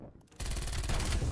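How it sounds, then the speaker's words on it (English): Gunfire from the video game Black Ops Cold War, with a quiet lull that gives way to a sudden sustained burst of rapid automatic shots, loud and close, continuing to the end. "Stop shooting at me, stupid."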